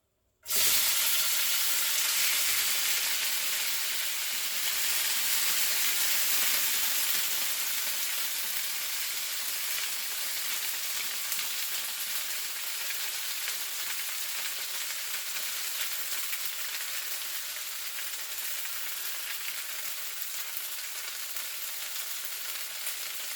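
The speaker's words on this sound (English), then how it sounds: "heat up a skillet with some olive oil, and once it's hot enough, you're gonna add in your pasta" Orzo pasta crisping in hot olive oil in a skillet gives a steady, close sizzle and hiss that starts suddenly and holds evenly with no talking.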